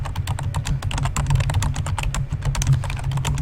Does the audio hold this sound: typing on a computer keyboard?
yes